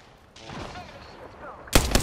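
Gunfire in the Apex Legends Arenas mode: a loud, sharp burst of shots near the end, following a stretch of game voice and effects.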